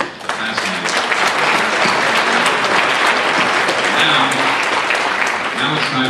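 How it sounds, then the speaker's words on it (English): Audience at a seniors' forum in Maryland breaking into loud, sustained applause, dense clapping that stays full for several seconds before easing slightly at the end. "I think we ought to give a round of applause to Ted Meyerson and his team"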